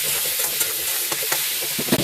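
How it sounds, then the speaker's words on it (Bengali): Pointed gourd pieces fry with salt and turmeric in hot oil, a close, steady sizzling hiss with a few soft stirring clinks over two seconds. "পটলটাকে আমি ভেজে নিচ্ছি নুন হলুদ দিয়ে।"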